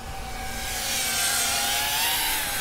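A GEPRC Cinelog 30 FPV pusher drone flies with a steady, high whining motor drone that rises slightly in pitch, loud and continuous, with no voices.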